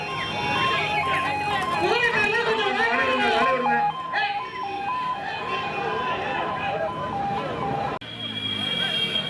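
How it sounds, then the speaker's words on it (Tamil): A two-tone ambulance siren alternates steadily in pitch amid a busy crowd at a street procession with horses in Karur, with voices talking loudly over it. "ஆம்புலன்ஸ் காலி விடுங்க."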